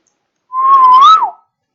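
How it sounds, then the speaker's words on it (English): A single sustained whistle blown near a homemade sound detector, one clean steady tone lasting nearly a second with a slight rise and fall in pitch at the end, alone against silence. "So let me blow a whistle and see what happens"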